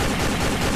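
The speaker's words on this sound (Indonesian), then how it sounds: "Ada tembakan pistol lagi." A toy pistol gunshot sound effect plays as one loud, dense, continuous blast of noise that fills the whole short moment, with no voices.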